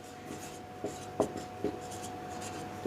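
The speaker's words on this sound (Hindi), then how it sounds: "तो मैं इसको लिख देता हूं।" Chalk or marker writing on a classroom board, a few short scratchy strokes spaced irregularly against a quiet room hum, close and fairly faint.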